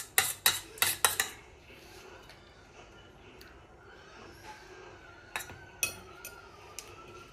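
Chicken pieces are turned over in a pan with a metal utensil, several quick clanking scrapes at the start, a stretch of soft sizzling, then a few more sharp clinks toward the end.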